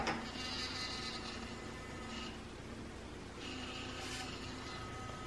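Sonicare electric toothbrush, opened up and run without its case, giving a faint thin buzzing hum that rises and falls in two bursts over a steady background hiss.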